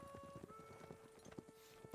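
Faint, steady clip-clop of horse hooves on the ground in Red Dead Redemption 2, a regular walking rhythm under sustained tonal game music, ending with a brief brighter burst.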